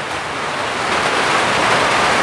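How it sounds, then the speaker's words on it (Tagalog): Heavy rain pours down outdoors, a loud, dense, unbroken hiss that swells slightly and stays steady throughout, with no voices. "Ayun na ulan, oh, ipakita ko sa inyo yung ulan."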